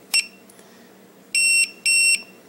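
An EEZRV tire pressure monitor gives two bright electronic beeps, evenly spaced and close, after a short initial chirp, confirming a tire sensor has been recognized.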